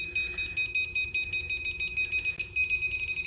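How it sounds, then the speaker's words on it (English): Rapid, evenly pulsing high-pitched electronic beeps from a cable tracer locating a cable repeat quickly and steadily, fairly faint, with no talking. "when you find the correct cable, the faster the beep and the faster the LED light will flash red"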